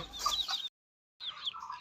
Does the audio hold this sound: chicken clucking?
yes